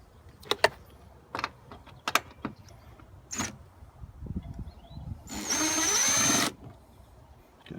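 A power tool backs Phillips bolts out of plastic trim on a 2000–2005 Toyota Celica. Scattered close clicks and knocks lead into a single whirring run of about a second, then quieter handling noises.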